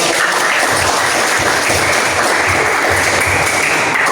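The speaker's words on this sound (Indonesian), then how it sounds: "Oke, tepuk tangan buat." A classroom of students in an Arabic language lesson claps together in a dense, steady burst that stays loud and unbroken throughout, with no speech heard over it.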